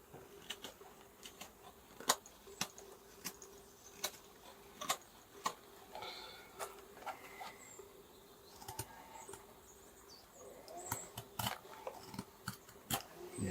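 Rough Rider drop point hunter knife carving a wooden spatula, shaving off thin layers in quiet, sharp, irregular clicks and scrapes, close and alone.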